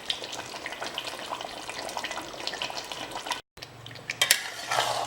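Onion paste for mutton korma fries and is stirred in a pot, making a soft, steady sizzle with light scraping and wet stirring. A brief silent break comes before louder scrapes near the end.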